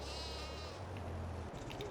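Sheep on a farm in Farming Simulator 22 giving a single drawn-out bleat, close and clear, followed by a short pause of quiet ambience.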